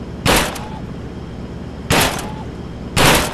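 Three loud, sharp gunshots ring out in the VR shooting game Gun Club, each a sudden crack with a short decay, spaced unevenly about a second or more apart over a low background hum.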